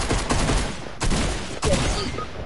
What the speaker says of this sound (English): Here's a shotgun.